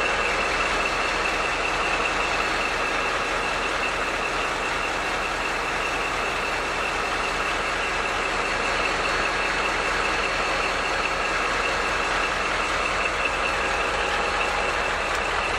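A Class 159 locomotive's Caterpillar diesel engine runs steadily alongside a repeating high reversing-style beep at a rail event, a constant loud drone with no talk.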